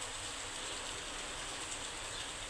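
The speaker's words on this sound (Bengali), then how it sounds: "বাহিরে প্রচণ্ড বৃষ্টি পড়তেছে" Heavy rain pours down outside in Bangladesh, a steady, dense hiss that fills the whole stretch without a break and with no voices.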